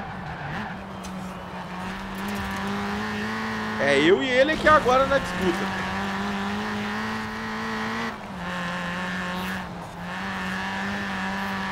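A turbocharged Volkswagen Golf on BBS wheels racing a rival car in Forza Horizon 4: a steady, droning engine note with a brief burst of tire squeal midway, while someone talks excitedly over it.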